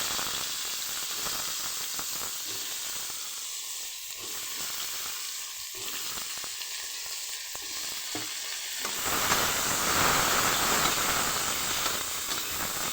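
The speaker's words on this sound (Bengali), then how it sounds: "সেইগুলো এবারে একে একে ছেড়ে দেবো। এবার আমি ভেজে নেবো একে একে করে।" Salted, turmeric-coated pointed gourd pieces sizzle steadily in hot oil in a pan, with light clinks as pieces go in, rising into a louder, fuller hiss near the end.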